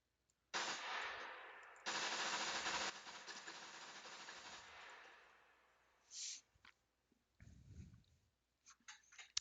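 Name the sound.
gunfire in SCUM video game, testing weapon recoil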